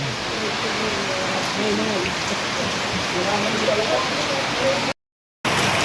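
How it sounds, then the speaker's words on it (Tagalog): Heavy typhoon rain roars steadily as a dense hiss, with muffled voices talking underneath; the sound cuts out briefly near the end. "Lakas ng ulan po."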